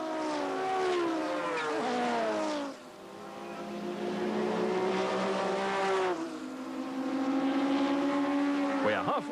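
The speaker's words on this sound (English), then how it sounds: "Down the main straight they come at around 260 kilometers an hour" Modified saloon race cars, including an Audi S4 GTO, roar past at around 260 km/h on the main straight at Killarney circuit in 1992, engines whining through rising and falling pitch, loud and close, with a commentator talking over them.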